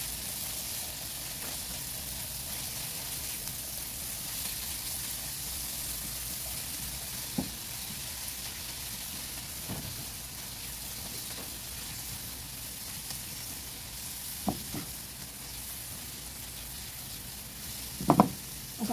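Spaghetti sauce with carrots sizzles steadily in a pan while a spoon stirs it, leaving a few soft scraping knocks and a louder clack near the end, with no voices.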